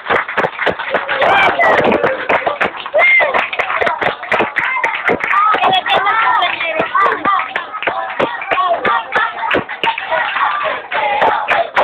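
Sustained clapping from a group of people at an 18th birthday party, a dense, lively patter of hands that runs throughout with voices and cheering mixed in.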